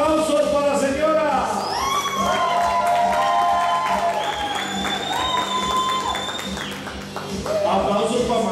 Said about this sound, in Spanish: ¡Aplausos para la señora!